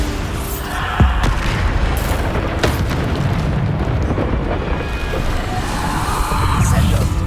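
Bombarda spell explosions in Hogwarts Legacy boom through a dense, constant roar of game combat, with sharp bursts cutting through near 1 and 2.7 seconds.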